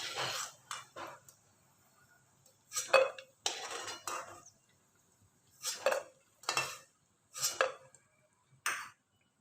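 Fried golden cashews being scooped out of ghee onto a plate, a series of distinct metal spoon clinks and scrapes against pan and plate, close and crisp with short pauses between strokes.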